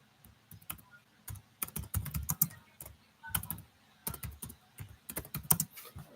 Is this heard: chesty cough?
no